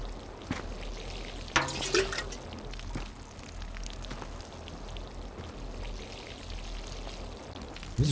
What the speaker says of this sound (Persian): حالا باید بریم به گیاه ها آب بدیم.